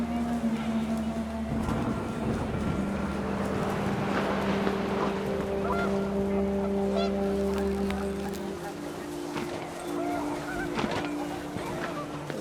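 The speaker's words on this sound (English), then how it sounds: "The wind picked up, and panicked geese appeared and quickly went." Panicked geese honk amid picking-up wind in the video game What Remains of Edith Finch, a steady blustery bed with scattered honks under a voice talking.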